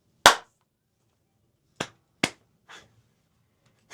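A single sharp hand clap as a take marker before a bass fishing channel intro, loud and close, followed by three fainter, spaced clap-like hits in an otherwise quiet space.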